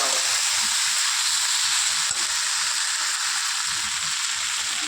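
Boiled chickpeas and fried potatoes are stirred in a frying pan, a loud, steady sizzling hiss with a faint stirring scrape, close and continuous, with no talk.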